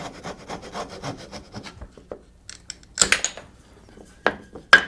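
A hand saw rasps through a wooden tenon in a series of short rhythmic strokes, then pauses before a few louder scraping bursts, close and dry with no voices.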